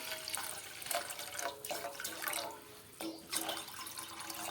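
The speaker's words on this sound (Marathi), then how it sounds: "दोन ते तीन ग्लास मी या ठिकाणी एका पातेल्यामध्ये पाणी घालून घेत आहे" Two to three glasses of water being poured into a cooking pot, a close splashing gush in a few bursts with brief pauses between them.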